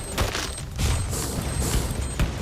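Rapid gunfire from the Free Fire video game, an XM8 rifle with a legendary skin, bursts in dense, loud volleys that fill the moment with a few heavier thuds mixed in.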